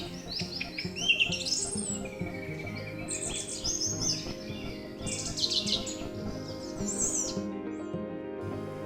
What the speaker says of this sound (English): the air is full of the sound of birdsong